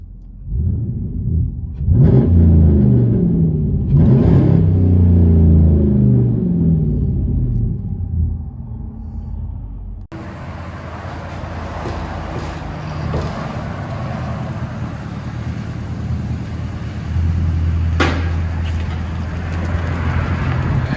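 RAM pickup with a 5.7L HEMI V8 and loud aftermarket exhaust, a deep close rumble with two rising revs early, then a steady lower idle drone that swells again near the end.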